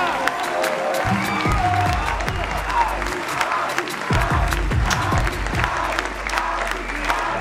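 An audience breaks into applause at a singing show, bursts of clapping and cheering with whoops rising and falling for several seconds, mixed with crowd voices and some underlying music.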